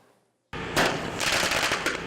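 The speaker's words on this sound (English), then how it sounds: "they demonstrated the dangers of fireworks" Fireworks set off by the Phoenix Fire Department in a safety demonstration burst in after a brief silence, a loud, close string of crackling pops and bangs that keeps going.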